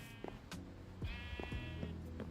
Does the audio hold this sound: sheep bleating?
yes